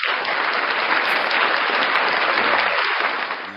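Steady, dense applause from a crowd of many hands, loud and continuous before tapering slightly at the end, with little talk over it.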